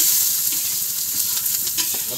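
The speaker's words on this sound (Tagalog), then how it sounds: "Magigisa naman ng bawang sibuyas guys." Garlic and onion sautéing in a pan for pancit bukid, a steady close sizzle with light stirring scrapes, no talk.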